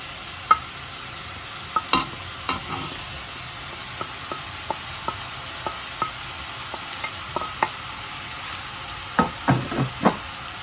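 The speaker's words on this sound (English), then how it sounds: "the mince has started to sizzle" Minced meat with onions and garlic sizzles quietly in a pan while a spoon stirs and scrapes in irregular taps, near and alone without talk.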